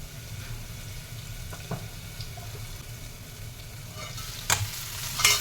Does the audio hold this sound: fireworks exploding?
no